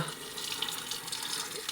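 Water flows and splashes steadily while a Beko washing machine is rinsed, a constant close hiss of running water with no pauses and no talking.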